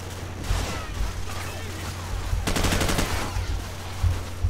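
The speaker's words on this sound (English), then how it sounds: "What are you idiots shooting at?" Automatic gunfire from Call of Duty 4: Modern Warfare, heard in rapid bursts with a dense rattling volley near the middle and scattered game sounds around it.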